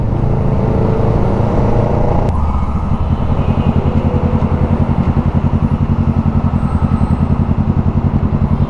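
A Kawasaki Ninja 650 motorcycle rides along, its engine loud and close with a rapid pulsing exhaust beat that drops in pitch partway through as the rider shifts, continuing steadily to the end.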